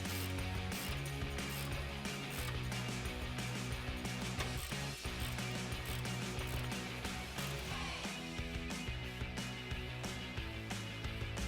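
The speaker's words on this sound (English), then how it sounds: "we'll replace our nuts and then tighten them back down with our 24mm socket" Ratchet with a 24mm socket tightening exhaust nuts on a Ford F-150 Borla dual exhaust, producing continuous close mechanical clicking and metallic clatter throughout.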